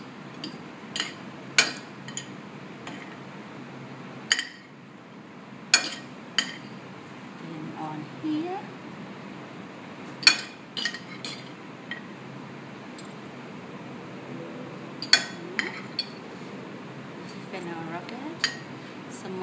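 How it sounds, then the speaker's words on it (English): Prawns being mixed with salt and olive oil in a bowl, heard as scattered light clinks and taps of utensil against the dish over quiet kitchen background. "pinch of salt, little bit olive oil, mix them together"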